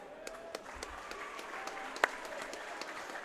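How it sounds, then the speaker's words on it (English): Audience applause at a school sports tournament, honoring team scorers and players; scattered claps ring out over a steady distant crowd wash, fairly faint and reverberant throughout. "Give them a round of applause."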